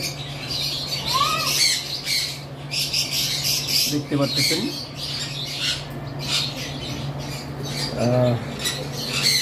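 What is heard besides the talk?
English budgerigar squawking and chirping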